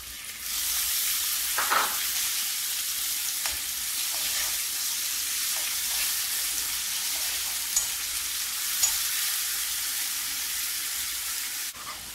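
Chopped tomatoes fry in a pan for biryani, giving a steady, moderate sizzle with occasional soft clicks of stirring and no talking.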